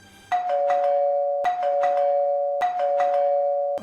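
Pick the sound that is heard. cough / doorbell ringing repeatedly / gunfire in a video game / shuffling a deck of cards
doorbell ringing repeatedly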